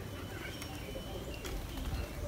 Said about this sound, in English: There's a lot of bird.